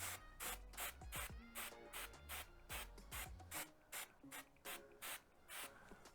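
L'Oreal Magic Root spray is misted onto a wig's roots in short, even bursts, a steady series of close, crisp hissing puffs with no talking.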